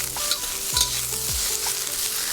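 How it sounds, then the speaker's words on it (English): Garlic, mushrooms, carrots and pineapple stir-fry in a hot wok for longevity noodles, a continuous bright sizzle with a metal spatula scraping and tossing the ingredients at close range. "After about 40 to 50 seconds of stir frying our ingredients"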